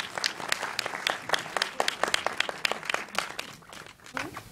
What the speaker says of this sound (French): vous pouvez applaudir maintenant